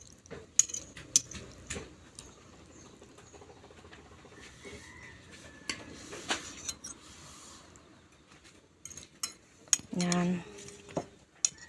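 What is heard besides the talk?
cutlery clinking on plates while eating spaghetti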